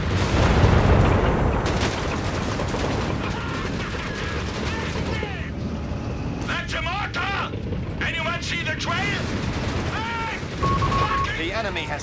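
Gunfire from a Company of Heroes 3 battle: bursts of machine-gun and rifle fire rattle loudly and continuously, mixed with booms, while radio-style voices speak over the fighting.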